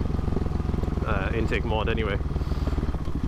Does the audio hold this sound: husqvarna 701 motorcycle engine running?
yes